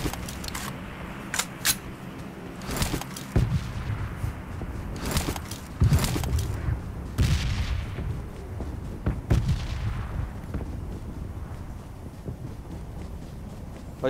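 First-person shooter gunfire in a game, with repeated sharp bursts and booms spread through the clip over a dense, busy background and no clear talk.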